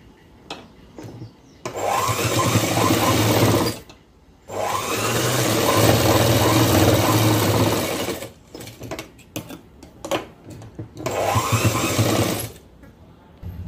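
Sewing machine running in three long bursts separated by short pauses, stitching the shoulder seams of a coat, with a steady motor drone close by and no talk over it.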